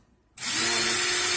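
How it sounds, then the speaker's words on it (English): A power drill spins in reverse, twisting Clapton coil wire in its chuck, starting abruptly and holding a steady, even whir close by with nobody talking. "Put my drill in reverse and count to 3 to 5 seconds."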